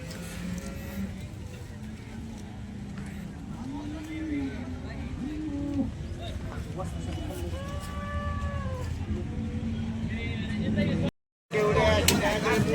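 Cows at the Sangola cattle market give several drawn-out, wavering moos of varying pitch over a constant hum of crowd voices and market bustle.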